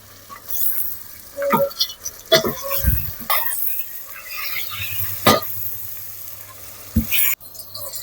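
Chopped tomatoes drop into a hot pan in a tiny house kitchen by the beach. A close sizzle follows, broken by clanks and scrapes of stirring, with a brief voice sound partway through.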